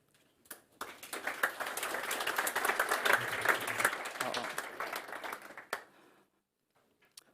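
An audience at a startup competition grand final bursts into applause for a presenter taking the stage, the clapping swelling quickly, holding steady for several seconds, then fading out to near silence with a few stray claps.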